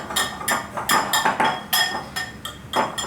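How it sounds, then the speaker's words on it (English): Snickerdoodle dry ingredients whisked in a bowl, a series of quick metallic clinks and scrapes in rhythmic bursts, close and fairly loud, with no talking. "We're gonna whisk those ingredients together"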